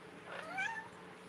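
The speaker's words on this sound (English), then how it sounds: "Oh, there comes my kitty cat." A house cat gives a single soft, short meow, faint against quiet indoor background hum.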